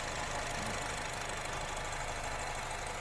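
A used car's engine idling during an inspection, a steady mechanical hum with a faint ticking rhythm, constant and close with no voices.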